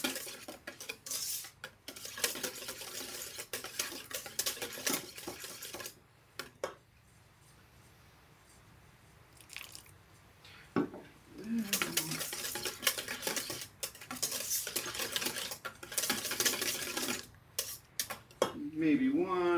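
Hollandaise sauce whisked in a pan while a little water is added to thin it, giving busy metallic clinks and scraping in bursts with quiet gaps, close and fairly loud, with a voice talking in between.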